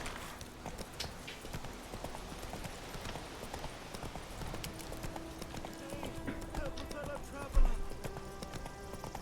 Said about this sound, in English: Gallop is very hard, so we are going to trot. Or canter, rather,